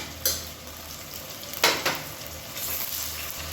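Onions, shallots and green chillies for mushroom biryani frying in oil, with a continuous sizzle and a few sharp clinks and scrapes from the stirring utensil against the pot.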